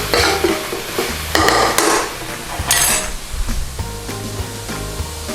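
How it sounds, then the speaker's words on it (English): Onions cooking down in a pan with water while being stirred, a scraping stir with knocks of the utensil against the pan over a soft steady sizzle, close and moderately loud. "Give it a stir around."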